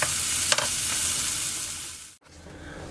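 Sautéed onions hiss loudly in a hot pan as they are stirred, with a couple of scrapes near the start and a brief dip in the sizzle about two-thirds through before the frying resumes.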